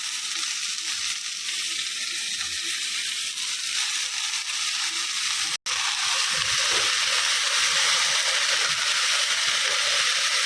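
Chopped, washed leafy greens fry in hot oil in a home kitchen pan, a steady loud sizzle and hiss running throughout with a brief dropout midway and no voice.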